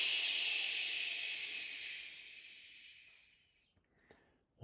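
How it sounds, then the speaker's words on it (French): A long, steady exhale pushing out the remaining air after a breath hold in a guided breathing exercise, close and airy, tapering off over about three and a half seconds into silence, with a small faint click near the end. "On arrive à la surface, 3, 2, 1 et tu éjectes le reste de l'air."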